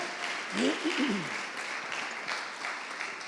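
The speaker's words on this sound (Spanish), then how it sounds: "demos un fuerte aplauso a la más grande generación de obreros que Dios haya levantado en Nicaragua" A church congregation gives strong applause in praise of workers, a dense burst of clapping close by, with a voice calling out briefly over it near the start.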